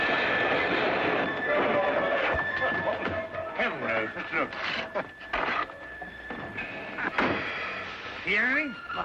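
A train rumbles steadily along the rails with rhythmic clicks and knocks, while voices talk over the noise throughout.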